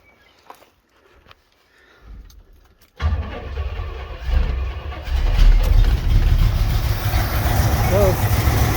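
A Pontiac Ventura that has not run in three years cranks and fires up after a few quiet clicks, then settles into a loud, rough idle that grows fuller as it keeps running up close.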